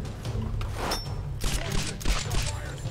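Gunfire in the video game Tomb Raider: a few dull muffled bursts and thumps over a low rumbling game backdrop, moderately loud, with a faint voice in the mix.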